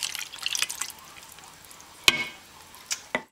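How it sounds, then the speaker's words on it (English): Apple cider vinegar and soy sauce are poured into a pot with chicken and bay leaves for adobo: quiet liquid splashes and drips, a pouring patter early, then a few sharp isolated plops. "I'm going to add like a 1/3 cup of apple cider vinegar, a little over"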